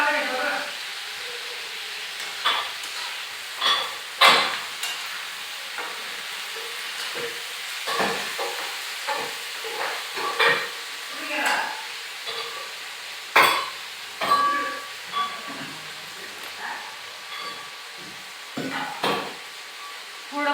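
Cluster beans frying in oil in a pan, with a spoon scraping and knocking in scattered strokes over a low sizzle as someone talks nearby.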